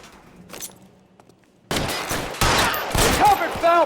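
Gunfire erupts in a shootout in LA Noire, with loud, dense cracks of rapid shots that start abruptly and continue in bursts after a quieter stretch with a few faint sounds.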